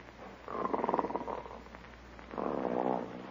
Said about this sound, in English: Snoring already.